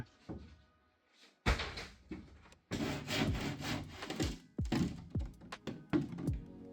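Plywood inside a solar-electric boat's living room area is cut away with a saw, giving loud, close rasping strokes and woody thunks in irregular bursts separated by short pauses.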